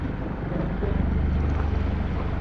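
A motorboat running slowly at sea off Onok Island in Balabac, heard as a low, steady engine drone mixed with wind buffeting the microphone, continuous and fairly quiet with no talk.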